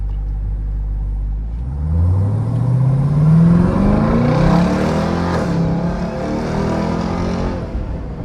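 Widebody Jeep Trackhawk, a garage-kept supercharged SUV, gives a loud, close engine rumble that swells as a supercharger whine climbs steadily in pitch, then holds at a steady drone. No one speaks.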